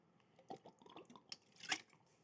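A man takes quiet, close sips of water, with soft wet mouth sounds, small gulps and a brief louder slurp near the end, all faint and with no talking.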